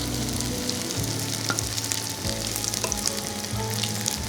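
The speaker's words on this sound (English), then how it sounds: "transfer them to a pan and cook golden brown on both sides" Bite-sized broccoli pancakes fry in cooking oil in a pan, a steady close sizzle with light crackling and faint pops throughout, no voices.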